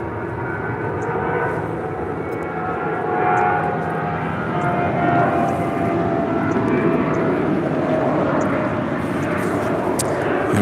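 An airliner roars down runway 25 right at LAX on a full-length takeoff, a loud, sustained broadband engine rumble that swells slightly midway, heard from a distance with no talk.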